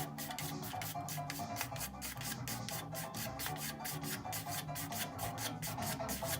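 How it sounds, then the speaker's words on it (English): A firm toothbrush scrubs back and forth over a Carrera slot car racetrack, giving a rapid, steady run of close, dry rasping strokes with no talk. "So as long as you got a firm toothbrush, and go back and forth just like so."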